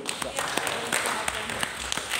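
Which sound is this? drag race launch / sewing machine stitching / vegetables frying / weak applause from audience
weak applause from audience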